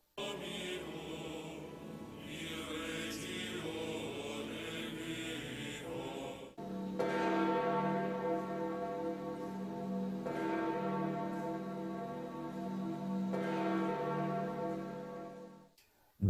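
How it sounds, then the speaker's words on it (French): Church bells ringing in Rome sound in long, resonant peals, loud and sustained, with overlapping tolls layering into a rich, droning chime and no voices. "les cloches de Rome ont résonné longuement"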